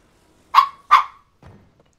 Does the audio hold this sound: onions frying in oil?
no